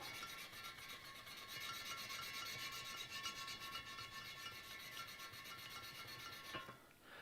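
Steel wool soaked in WD-40 scrubs a motorcycle spoke on a vintage Honda, making a fast, steady back-and-forth rasping rub, close and quiet, that continues for several seconds and then stops.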